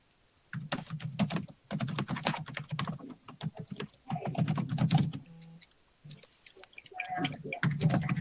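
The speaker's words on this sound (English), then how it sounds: "there's very loud typing happening over there" Loud, fast typing on a computer keyboard comes in dense bursts of close clicks with short pauses between them, in a quiet room.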